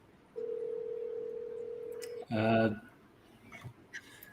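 A telephone ring tone from a live sales cold call: a steady, loud single-pitch tone held for about two seconds, followed by a brief burst of richer ringing, alone with no talk over it.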